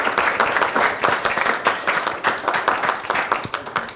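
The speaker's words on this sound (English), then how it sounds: "So let's give them one more big round of applause." Audience applause at a high school academic quiz competition final, steady dense clapping from a full crowd, loud and close throughout.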